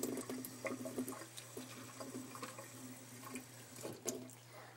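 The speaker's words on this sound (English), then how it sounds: "Just enough water in there to moisten it." Water trickles and splashes faintly into a bowl of mixed oat grains for a macaw's breakfast, a quiet uneven pour with soft liquid gurgles.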